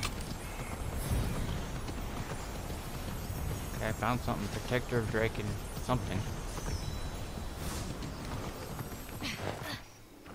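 Horse hooves in the video game Immortals Fenyx Rising, a rhythmic clip-clop of a ridden horse running beneath someone talking, steady and mid-level throughout before cutting out near the end.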